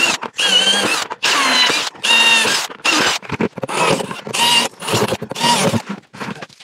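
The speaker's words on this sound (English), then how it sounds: "now that we got our holes drilled in our buckets" A power drill bores holes in plastic buckets for a backyard apple press, loud whining bursts of about a second each, six or seven in a row separated by short pauses, close up with no speech.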